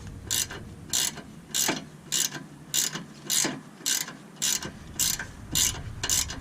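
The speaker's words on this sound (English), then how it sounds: "hold the Allen key in place while you're tightening up the nut" A ratchet tightens the nut on a Whiteline end link fitted to a 10th-gen Civic Sport hatchback FK7 while an Allen key holds the stud. About eleven evenly spaced, close clicking bursts repeat in a steady rhythm.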